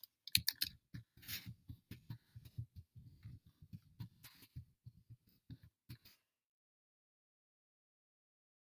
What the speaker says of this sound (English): I'm going to have to type it